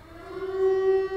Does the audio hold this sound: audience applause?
no